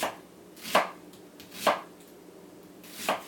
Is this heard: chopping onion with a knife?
yes